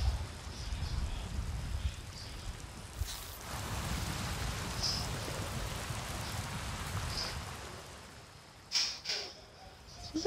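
Steady rain patters continuously across the whole stretch in the video game Avatar: Frontiers of Pandora, with a brief louder splash near the end and faint chirps in the background.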